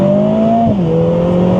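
A Lotus Emira four-cylinder engine, switched into Sport drive mode, holds a steady loud tone and then drops sharply in pitch as it shifts, continuing close and alone.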